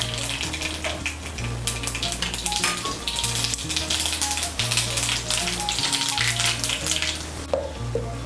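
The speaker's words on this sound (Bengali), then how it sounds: "তেলটা গরম হয়ে গিয়েছে, এর মধ্যে আমি দিয়ে দিচ্ছি 2টো শুকনো লঙ্কা আর দিয়ে দিচ্ছি 1/2 চামচ কালো সর্ষে।" Dried red chillies and black mustard seeds sizzle hard in hot oil, a loud, close crackle with rapid spattering pops, running over a low steady hum that cuts in and out.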